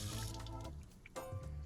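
Tap water runs into a homemade utility sink in a workshop with a steady close splashing that shifts in tone midway as the flow changes, briefly easing before surging again.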